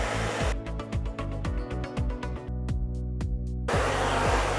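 Handheld hair dryer blowing steadily on curly hair, a loud continuous airflow roar lasting the whole stretch, with faint clicks and handling noises under it and no talking.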